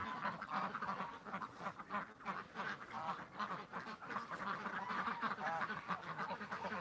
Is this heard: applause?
no